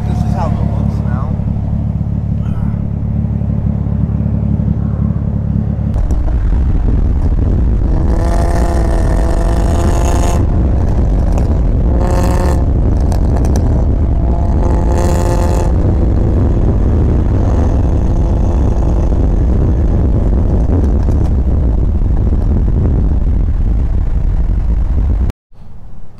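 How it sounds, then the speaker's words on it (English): A Nissan Maxima engine runs through its new muffler, a steady low idle rumble that shifts to rising revs with several throttle blips. Someone talks over much of it. "Now this muffler makes the car sounds quieter, and I don't have a lot of drone like compared to the other one that we had"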